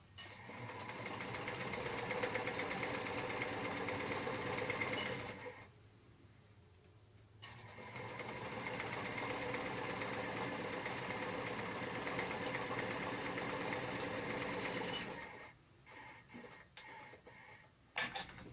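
A sewing machine runs a sweater seam in two long, steady stretches of rapid stitching. A brief pause separates them, and a few short handling noises follow at the end.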